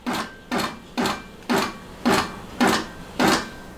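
A King Quilter II quilting machine stitches a large quilt in seven even, evenly spaced mechanical bursts, each a sharp whirring pulse about half a second apart, close and clear with no talk.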